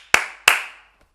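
Two sharp hand claps, close and loud, spaced about a third of a second apart, each ringing briefly in a small room before fading to quiet.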